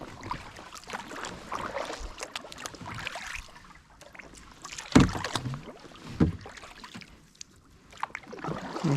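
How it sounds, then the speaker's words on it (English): A paddle dips and strokes through water as a small boat glides along during pre-season duck scouting, with soft splashes and knocks against the hull at close range over a light outdoor breeze. "But let's keep paddling."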